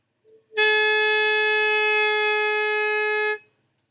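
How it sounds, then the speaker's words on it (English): A single sustained saxophone note, steady and bright, held for about three seconds before stopping cleanly. "saxophone, like the clarinet, one of the easiest instruments to produce a sound on"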